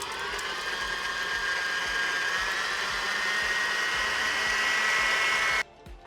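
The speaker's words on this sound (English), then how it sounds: "we're gonna put that in our food mixer, and we're just gonna cream it up a little bit." A food mixer creams yogurt with a steady, loud motor whir that keeps a sustained tone for several seconds and then cuts off abruptly at the end.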